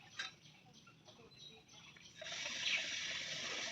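Floodwater from a swollen river in Assam rushes past with a steady hiss that grows louder and fuller after the first couple of seconds, with faint outdoor sounds behind it.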